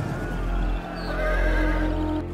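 Horses whinny loudly in a cinematic battle of horse battalions charging into an orc army, a drawn-out neigh rising over a dense low rumble of the charge.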